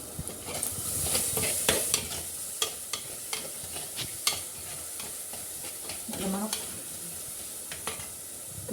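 Onions fry in a pan for a fish curry, giving a steady, close sizzle. Scraping strokes of stirring break through at intervals, and there is no speech.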